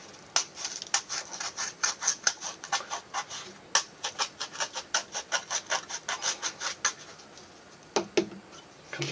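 Stiff brush bristles scrub rapidly over painted metal on a rust-effect model, making a steady series of close, dry, scratchy strokes in a quick regular rhythm, with a brief pause near the end.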